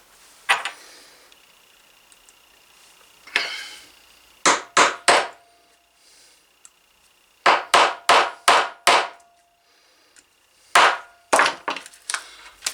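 Hammer strikes set a Line 20 snap into leather, coming as sharp, close taps in quick bursts of three to five blows separated by quiet pauses, with no talk.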